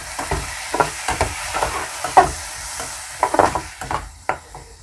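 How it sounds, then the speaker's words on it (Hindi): Onions and kasuri methi fry in a pan over low heat, with distinct, irregular spatula scrapes and knocks over a soft, close sizzle. "कसूरी मेथी, प्याज, इसको हम अच्छे से चलाएंगे।"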